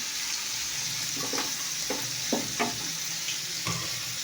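Onion pieces frying in oil make a close, even sizzle, overlaid by several short scraping strokes of a spatula stirring through the pan in an irregular rhythm, with nobody speaking.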